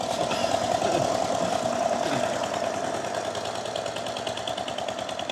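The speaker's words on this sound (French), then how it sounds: "c'est une scie à ruban, mais visiblement elle est faite pour se déplacer" A portable band saw built to be moved around, heard in Croatia, runs with a steady, droning engine hum and a faint rattle, continuous and fairly close throughout.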